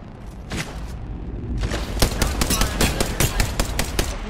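Rapid gunfire in a battle royale video game, a few sparse shots followed by dense bursts of automatic fire, loud and close throughout.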